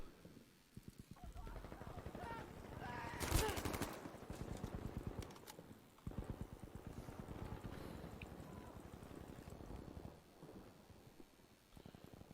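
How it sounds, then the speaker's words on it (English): Pistol shots ring out in a Battlefield V PC match, a fast string of sharp cracks with one loud burst, mixed into continuous battle noise while a commentator talks over it. "as Villeneuve finds him, but not connecting with the pistol shots"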